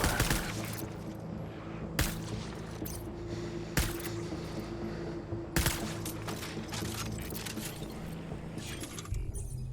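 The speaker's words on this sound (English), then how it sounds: "Taking fire." Gunfire in the PS4 Pro game Death Stranding: sharp shots crack out at irregular intervals over a steady droning hum and background clatter, moderately loud.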